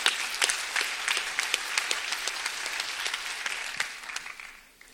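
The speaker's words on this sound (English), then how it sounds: "Please give a round of applause" A conference audience at a Soroptimist climate session claps in dense, sustained applause that fills the room and then tapers off toward the end.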